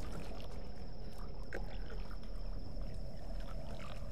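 Water dripping in a cave in the 2013 Tomb Raider video game, an odd resonant, droning drip with a hollow, didgeridoo-like tone over a steady wet ambient background.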